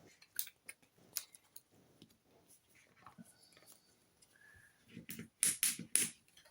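Enemy cards from the Dead Cells board game being reshuffled by hand: soft scattered rustles and taps, then a quick run of crisp, louder riffling bursts near the end, with faint breathy murmuring.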